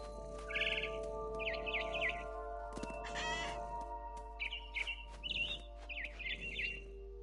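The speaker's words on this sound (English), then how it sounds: "Then I heard chirping outside my window. It was a barn swallow going back to her nest." A barn swallow chirps outside a window in the video game What Remains of Edith Finch, giving repeated short twittering bursts, fairly close and clear over a steady low hum, with no talking.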